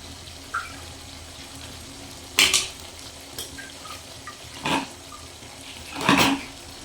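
A little water is poured into a pan of cooking beef in three short splashing bursts, separated by quiet pauses, close by with no talking.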